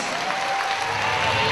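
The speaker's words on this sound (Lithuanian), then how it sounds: "Kėdainiai pasitinka plojimais šias rungtynes." A basketball arena crowd in Kėdainiai applauds at the start of a women's basketball league all-star day game. The clapping is a continuous, even wash of many hands, fairly loud and uninterrupted.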